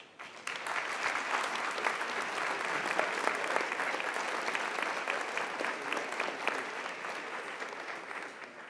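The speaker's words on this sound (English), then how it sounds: "That rates a round of applause." Sustained, dense applause from a large graduation audience honoring the class, loud and steady for several seconds with no talk over it.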